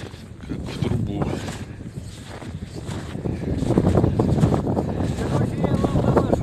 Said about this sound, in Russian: Здесь дует как в трубу.